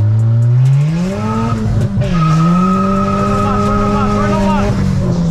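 A Dodge Caliber SRT-4 running 21 psi of boost accelerates hard nearby, its loud engine note climbing steeply, dipping briefly at a shift, then winding up again with a faint tire squeal.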